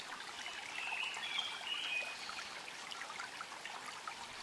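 A mountain valley stream flows steadily nearby, its water trickling and babbling over rocks in a continuous, even wash with no voices.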